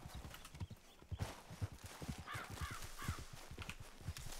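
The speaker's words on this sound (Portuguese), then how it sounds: "Para! Para o cavalo!" Horse hooves clip-clop in a steady walking rhythm in the video game Red Dead Redemption, close and moderately loud, with crows cawing faintly in the background.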